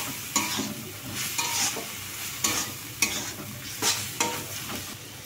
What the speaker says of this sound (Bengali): এটাকে একটু ভালো করে কষিয়ে নিতে হবে।